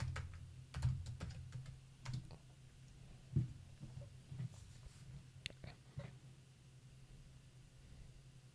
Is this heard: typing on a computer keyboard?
yes